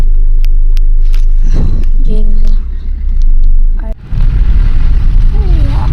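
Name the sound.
car being driven, heard from inside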